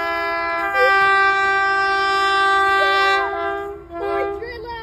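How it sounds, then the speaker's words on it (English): A Colas Rail Freight Class 70 diesel freight locomotive sounds a loud, sustained multi-tone horn as it passes close by, the chord bending and dropping near the end amid rumbling engine noise. "And now approaching, we have a Colas Rail Freight Class 70"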